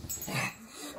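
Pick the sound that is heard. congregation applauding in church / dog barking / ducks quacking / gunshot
dog barking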